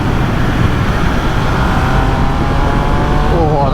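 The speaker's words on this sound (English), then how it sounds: "That induction roar." A loud, continuous Triumph Speed Triple 1200 RS motorcycle engine roars with a throaty induction growl, holding steady and close for the whole stretch.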